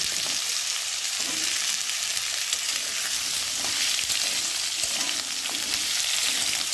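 Potato pieces frying in hot oil for a home-cooked dish, giving a steady, dense sizzle and crackle that holds evenly throughout, close by, with no talking.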